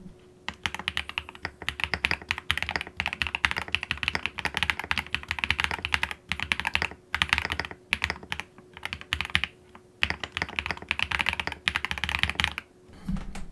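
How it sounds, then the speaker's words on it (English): Steady, rapid typing on a compact Epomaker TH40 40% mechanical keyboard with linear switches, close and clear, with smooth muted keystrokes in continuous bursts and brief pauses. "the actual sound of the keyboard, because it's so compact, it has a really nice acoustic to it"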